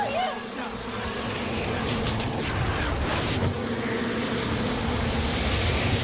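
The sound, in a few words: swarm of bees buzzing in TV show Smallville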